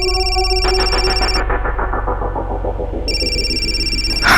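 An electronic ringtone plays loudly and continuously, a bright repeating melodic tone that briefly drops out before resuming.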